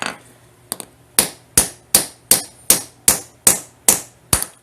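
A hammer lightly taps a drive pin holder down until it sits flush, giving about ten sharp, close knocks at a steady, even pace after an early quick double tap, with no talking.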